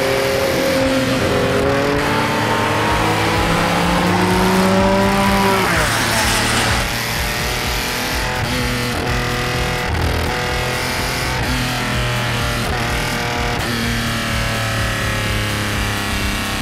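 Engine of a 1974 Porsche Carrera RS 3.0 replica at an outdoor car show, a loud sustained rev rising in pitch for several seconds, then settling into a steady, rough idle that runs on continuously.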